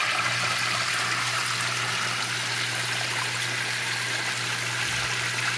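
Strong, steady rush of water pouring from the filter outlet of a pump on a prototype cold plunge filtration setup, loud and continuous throughout with no voices.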